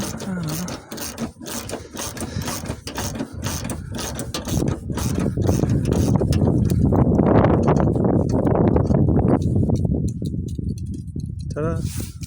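Ratchet wrench backing out a long bolt during a fender swap on a 2007 Mercury Grand Marquis, giving a long run of fast, close mechanical clicking with a person humming or singing over much of it.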